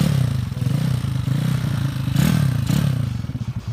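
A Yamaha Mio 150cc road-race scooter engine is hard to start. A loud, close, rough chugging churns with clattering pulses and a brief rising surge, as if cranking and catching.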